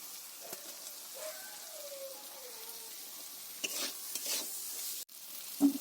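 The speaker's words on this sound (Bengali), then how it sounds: "এটা ভালো করে নেড়ে চেড়ে নেব। মশলাটা ভাজা হয়ে গেছে, এবার আমি গ্রেট করা পনিরটা এর মধ্যে দিয়ে দেবো।" Grated paneer stirred into fried masala in a kadai, a quiet scrape and soft sizzle with a few light clinks of the spoon against the pan.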